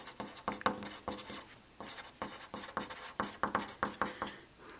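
Pencil writing on paper in quick, rhythmic scratchy strokes, close and fairly soft, with brief pauses between bursts of words being written.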